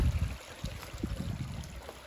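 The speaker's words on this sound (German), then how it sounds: "schlussendlich ist das hier der Wasserfall" Small waterfall in Thailand, a steady close rushing and trickling of water with uneven splashy surges and no voices.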